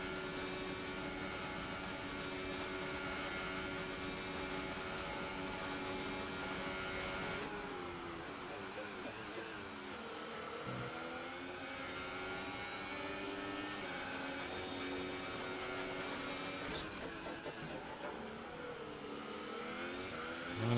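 F1 2018 racing game cars on the Baku street circuit, steady high-revving engine whine with pitch shifts as a car closes from behind to overtake, continuous and moderately loud, no talk.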